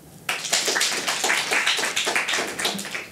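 Audience at a Greek stand-up comedy show clapping, a burst of many hands starting abruptly and continuing steadily, fairly close and loud, with no talk over it.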